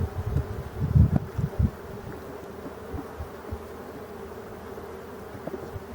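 Honeybees buzz close by at an open hive in a low, wavering drone, with a few louder passes early on before settling into a steady hum.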